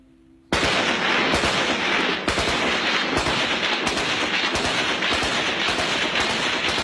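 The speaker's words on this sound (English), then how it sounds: "these days the tribesmen use their firearms the way we use fireworks" Rapid bursts of gunfire from tribesmen's firearms in the Khyber Pass erupt suddenly and continue as dense, loud, overlapping volleys with sharp individual shots.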